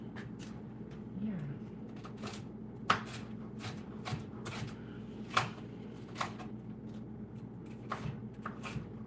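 A knife slices through the bottom of a pepper on a cutting board, giving a few sharp, close cuts with soft rustling between them over a low room hum.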